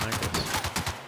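Gunfire in the video game The Outer Worlds, a rapid string of sharp, punchy shots in uneven bursts, loud and close, with no speech over them.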